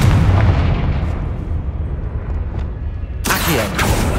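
A Confringo fire spell blasts in Hogwarts Legacy, giving a heavy booming burst with a sharp crackling second blast near the end, loud and close over dense game ambience.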